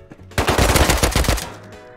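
AK rifle gunfire in a video game, a rapid burst of about ten loud close shots fired in quick succession, with a short tail of echo afterward.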